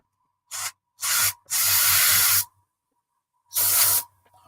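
Spray can spraying onto a 1/48 scale Miniart P-47D-25RE Thunderbolt model kit, four separate close hissing bursts, two short then a longer sustained one, a pause, and a final burst, with no talking.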